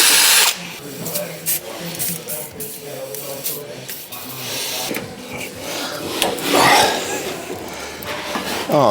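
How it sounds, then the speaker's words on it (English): A power drill whines and grinds with a wire wheel cleaning parts from an old Land Rover steering damper swap, loud and close, in bursts with short pauses, with brief talk mixed in. "try to use a wire wheel on the drill just to expose that a little bit"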